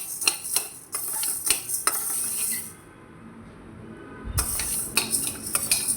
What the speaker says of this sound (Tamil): இதை நம்ம சிம்மில் வச்சு நல்லா வறுத்து எடுத்துடலாம்.